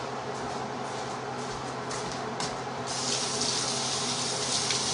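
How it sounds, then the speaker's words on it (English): Water runs steadily from a kitchen tap during handwashing before cooking, a continuous broadband rush that grows louder and brighter partway through, as if the flow is turned up. "I'm going to go ahead and wash my hands and get my gloves on"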